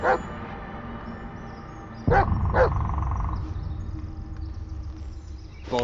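Dog barking in the Blair Witch video game, a few sharp separate barks at close range over low ambient rumble, with a short whine-like tone between them.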